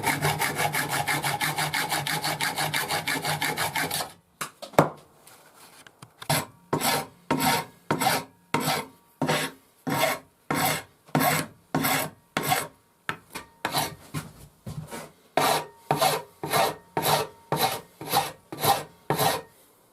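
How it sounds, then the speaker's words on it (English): Hand saw cutting through knife handle scales on a full tang knife: a brief continuous rasp, then a steady run of regular back-and-forth strokes, close and dry, with no voices. "I'll just use a saw."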